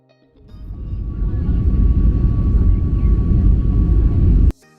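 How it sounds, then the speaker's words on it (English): An airplane takes off on a flight to Las Vegas. A loud jet roar swells within half a second, holds steady and powerful for about four seconds, then cuts off abruptly. "boarding అయిపోయింది and now it's time for the take off"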